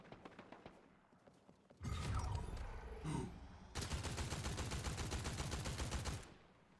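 Sniper fire in a video game fight: a quick run of sharp shots gives way to a long, loud, dense volley of rapid gunfire that stops abruptly, with no voices.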